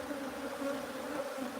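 Bees from a swarm newly settled in a hive box hum steadily around it, a dense, even buzz close by with no voices.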